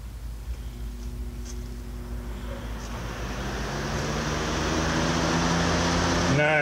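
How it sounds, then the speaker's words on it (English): A box fan blowing air beside a geothermal radiator setup, its steady broadband whoosh swelling louder partway through and then holding at a strong, even level over a low mechanical hum. "We got a box fan on there right now."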